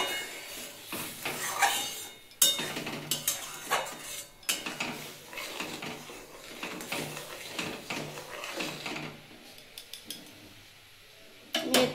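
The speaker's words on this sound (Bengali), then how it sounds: "আমি এর থেকে একটু দুধ তুলে নেবো আমুল দুধটা গোলার জন্য।" A ladle scrapes and clinks against a metal pot while boiled milk is scooped out, giving irregular close knocks and scrapes with quieter gaps in between.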